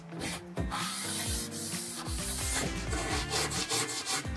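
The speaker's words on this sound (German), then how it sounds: "jetzt machen wir so einen kleinen Reinigungsschliff. Geht ganz leicht. Einfach nur mal kurz so abziehen." Light hand sanding across a camper van roof to clean the surface before gluing on a solar panel, a steady close scuffing rasp in repeated strokes with no voices.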